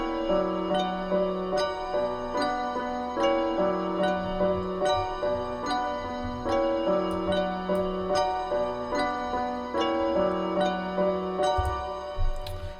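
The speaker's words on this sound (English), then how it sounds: "together it sounds like this" A looped keyboard melody repeats over a steady trap beat with a deep bass tone, the pattern cycling evenly throughout at a constant, full level.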